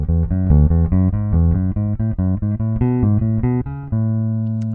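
Steady synthesized tones step up a scale in repeated groups of four notes, ending on a held high note, loud and clear with no voices.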